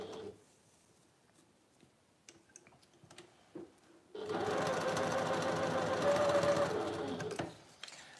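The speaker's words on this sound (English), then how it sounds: "And I'm now going to stitch on the A1," A sewing machine stitches a short quilt seam, starting after a few quiet clicks and handling taps with a loud, steady, rapid mechanical whirring and chattering for about three and a half seconds before stopping.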